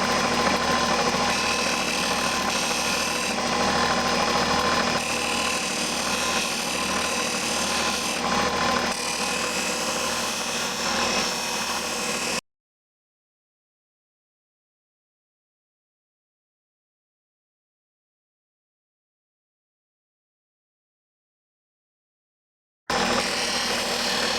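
A bracelet is pressed against a spinning grinding wheel to polish out scratches, giving a steady, loud rasping whir for about twelve seconds before the sound cuts to silence, then returns briefly at the end.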